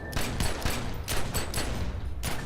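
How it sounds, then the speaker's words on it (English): A quick volley of pistol shots in the game The Secret World, about half a dozen sharp cracks in close succession, loud and near with no talking. "let's just try out the pistols again"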